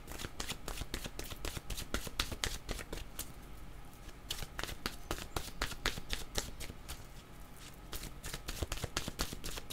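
A deck of oracle cards is shuffled by hand in quick riffling bursts, close and crisp, with a short pause midway before the rapid shuffling resumes.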